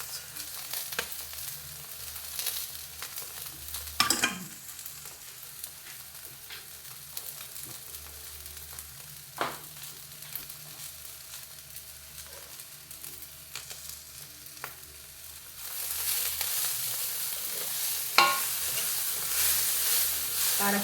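Leftover day-old rice stir-fried in a pan for homemade chowpan, a steady low sizzle with occasional spatula clanks and scrapes, swelling into a louder, brighter hiss toward the end.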